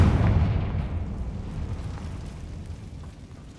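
A Confringo fire-spell blast in the game Hogwarts Legacy bursts as a deep rumbling boom that decays slowly over several seconds.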